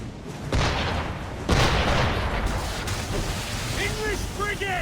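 Ship cannons firing in Assassin's Creed III, heavy booms at sea landing in quick succession under constant battle noise, with shouting voices and rising tonal calls toward the end.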